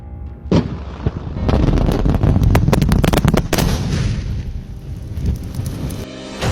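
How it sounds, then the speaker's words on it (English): Explosive blasting of iron-ore-bearing rock at a mine, a burst of sharp cracking detonations in rapid succession followed by a loud, sustained rumble that slowly fades, with no voices. "Explosives unearth all this rock that contains the primary iron ores"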